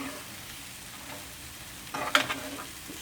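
Rice for chicken fried rice sizzles in a hot pan, a soft steady frying hiss with a brief louder burst of stirring near the end.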